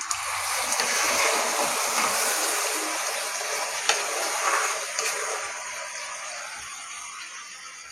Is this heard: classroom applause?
no